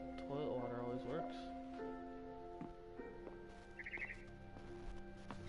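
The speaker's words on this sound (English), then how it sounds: "Then I heard chirping outside my window." Birds chirp outside a window in the game What Remains of Edith Finch, with a barn swallow near its nest; short tweets rise from a quiet background while a person talks over parts of it.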